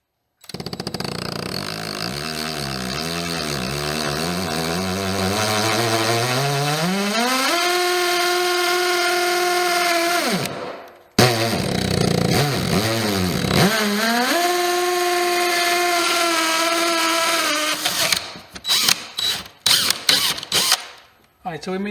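A power saw cuts a hole through a plywood wall, its motor winding up to a loud, steady whine that drops out briefly, then ramps back up before ending in short, sputtering bursts. No voices are heard.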